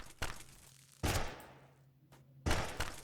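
Gunshots in a realistic first-person shooter video game: three sharp, loud shots spaced about a second apart, each trailing off into a reverberant decay.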